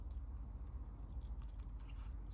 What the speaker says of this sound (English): These scissors are wonderfully sharp.